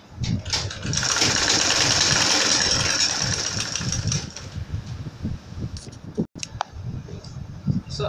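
A sewing machine hemming the edge of a pillow case, running in a fast steady whirring rattle for a few seconds and then slowing into intermittent stitches and clicks, close by, with someone speaking briefly.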